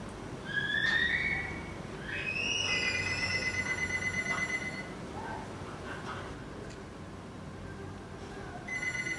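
A telephone rings during a call, with repeating electronic tones over a low, steady background hum.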